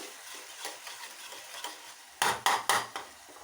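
Food sautéing in a pan is stirred with a spatula, giving a faint sizzle under soft scraping strokes that end in three loud, close scrapes near the finish.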